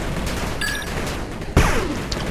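Gunfire from the retro-styled real-time strategy game 8-Bit Armies erupts in a short sharp burst about midway, over a steady bed of game sound and music, with no talking.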